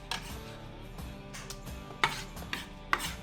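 A knife chops a fresh, juicy tomato on a cutting board for guacamole, with a few crisp, close taps against the board in an uneven rhythm over quiet kitchen background.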